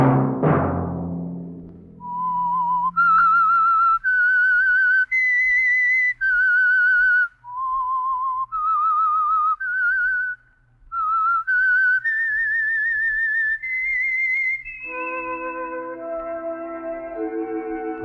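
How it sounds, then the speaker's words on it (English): A single person whistles the theme of the radio show The Whistler, a slow eerie melody of sustained, sliding notes, loud and close, alone with no talking, ending on a brief chord from other instruments. "Let that whistle be your signal for the Signal Oil program, The Whistler"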